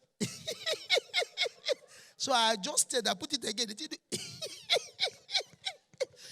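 Someone speaks and voices a rhythmic series of sputtering, cough-like bursts imitating a car engine cranking and failing to catch.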